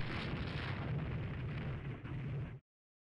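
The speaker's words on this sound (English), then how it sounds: "Another couple more 4-inch hits on you." Naval shell hits from 4-inch guns in the Rule the Waves 3 warship game, a sustained dense rumble of blasts for about two and a half seconds that cuts off abruptly, with no talking.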